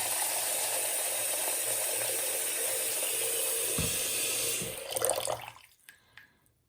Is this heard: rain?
no